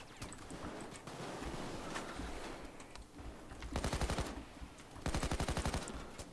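Sniper and automatic gunfire in the Payday 2 video game, with sharp shots followed by two loud rapid bursts of fire near the end over a busy background of game noise.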